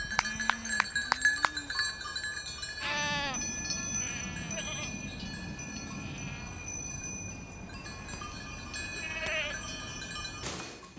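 Goats on a farm bleat in a few wavering calls over a steady outdoor background, with a faint clank like a cowbell and scattered rustling; the bleats are moderately close but not loud.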